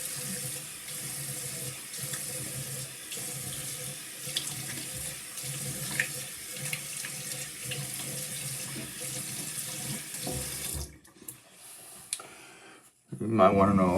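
A bathroom tap runs steadily into a sink as water rinses a face after a straight razor shave, a loud continuous hiss for about eleven seconds before cutting off, followed by a brief splash and a clatter at the end.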